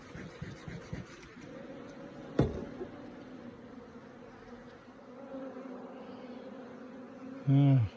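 Honey bees buzzing in a dense, continuous drone at an open hive during an apiary visit, close and steady, with a sharp knock partway through and a brief low rumble near the end.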